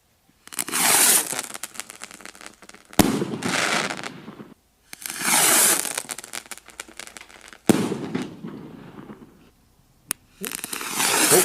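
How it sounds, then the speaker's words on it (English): Vivid fireworks rockets launch and burst in repeated rounds of loud crackling, rapid-fire pops separated by brief sharp bangs and short pauses. "this is the footage that Vivid have put out. But these are good rockets."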